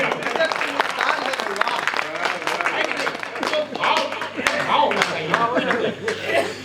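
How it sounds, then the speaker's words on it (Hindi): Audience applause at a Hindi poetry gathering, a dense, continuous burst of clapping from a crowd lasting several seconds, with scattered chuckles and voices mixed in. "ताली बजाओ।"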